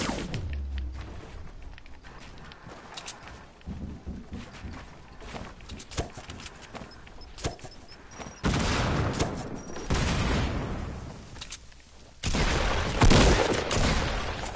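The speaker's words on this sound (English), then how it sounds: "Oh god, I hear shots" Gunfire from a camping sniper on a mountain in a PS4 online shooter, several sharp bursts of shots standing out loudly around the eight- and thirteen-second marks over quieter ambient game noise, with no talking.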